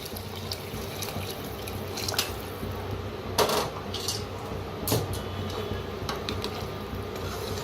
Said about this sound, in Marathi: गरम पाणी करून घेतलेलं आहे.